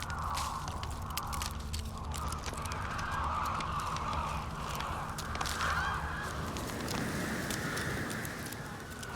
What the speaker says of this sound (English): All I gotta do is follow the cawing.